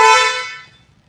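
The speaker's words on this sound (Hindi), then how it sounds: "ये है इसका हॉर्न।" A single short horn honk from a 2025 Hyundai Creta, loud and close, cutting off and fading quickly into a quiet background.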